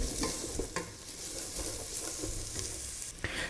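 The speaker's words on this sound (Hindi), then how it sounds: "फ्राई करना है इसको 2 से 3 मिनट, ताकि ये नरम हो जाए।" Carrot and cauliflower frying in a pan on high flame for chicken soup, a steady soft sizzle broken by repeated scraping stirs of a spoon, close and with no voices.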